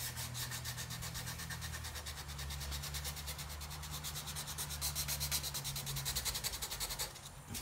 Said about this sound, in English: The reason I rub so hard on these rivets is to get the heavy sanding marks out of them.